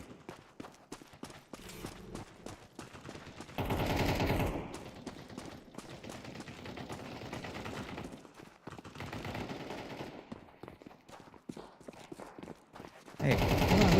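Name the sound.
gunfire in a first-person shooter video game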